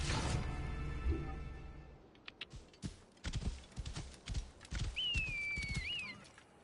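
Hooves of the Pharaoh's legendary horse mount in Assassin's Creed Origins, a series of fairly faint rhythmic clip-clop thuds in the middle stretch, with other game sounds and a brief whistle-like tone near the end.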